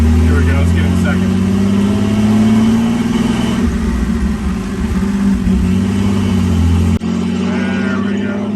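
Antique Plymouth car engine running steadily while driving, with a loud continuous low drone and a shift in tone partway through as it moves into second gear, speech faintly present over the engine.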